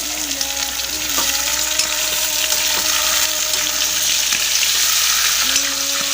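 Panch phoron spices frying in hot oil for a goat curry, a steady loud sizzle and crackle close up, with occasional faint stirring clinks and no talking.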